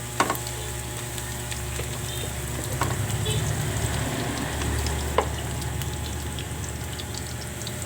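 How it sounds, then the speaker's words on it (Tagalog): Garlic and onions sautéing in a pan with a steady, low sizzle throughout, a few faint clinks of a utensil stirring, no voices. "Mix lang natin habang mag-brown ng ating garlic at saka yung ating onions mag-translucent."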